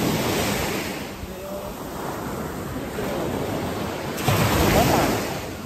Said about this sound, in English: And we are out on the beach.